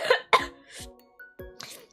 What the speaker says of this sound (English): You just made me laugh so hard I coughed my lungs out.